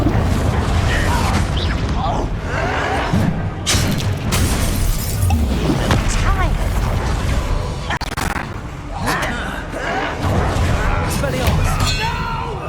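Confringo blasting spells going off in Hogwarts Legacy, a dense run of loud booming blasts and crackling bursts across the whole stretch, mixed with in-game battle noise and occasional character voices.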